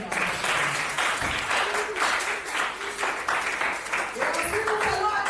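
A congregation at a worship service applauds steadily, with sustained clapping filling the space and voices mixed in throughout.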